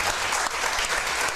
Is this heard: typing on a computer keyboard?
no